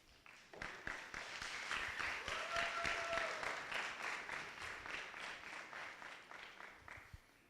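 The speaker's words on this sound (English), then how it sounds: "can I ask all of you to give all of them a big round of applause?" A demo-day audience at Flat6Labs Cairo gives a big round of applause, a dense, sustained wash of clapping that builds then holds steady and slowly tapers, with a brief whistle or cheer in the middle.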